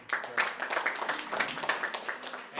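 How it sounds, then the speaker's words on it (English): An audience at an entrepreneurship week event in Kano claps in applause, a brief, dense patter of many hands at moderate level. "a round of applause for"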